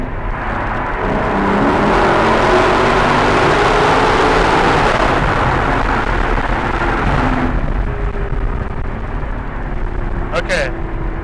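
Lexus LC500 driving through a tunnel with constant traffic, a loud continuous roar of road and engine noise that swells and holds, ending with a faint tick near the close.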